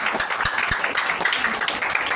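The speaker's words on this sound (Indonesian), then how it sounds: "Tepuk tangan buat kedahsyatan" A church congregation claps during a worship service, giving a moderately loud, slightly uneven patter of hands that stays fairly steady throughout.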